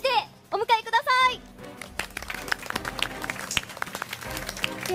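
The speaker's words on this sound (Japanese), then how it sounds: "拍手でお迎えください。" An audience claps to welcome the four-member Zeon team at a Gundam Online caravan event in Nagoya, a scattered crackle of applause that follows a brief moment of an announcer speaking.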